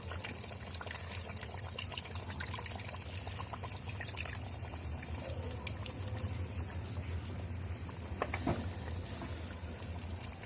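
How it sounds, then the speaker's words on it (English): Water is poured into a tamarind fish curry cooking in an earthen pot, making a steady liquid rush with bubbling and faint clinks throughout, and no voices. "Add some water."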